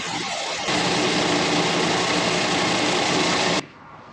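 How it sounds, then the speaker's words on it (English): A belt sander grinds steadily on fly casting basket parts, a loud continuous broadband whir that starts abruptly after a brief quieter lead-in and cuts off sharply near the end, with no talking. "We'll just have to clean those up on the belt sander."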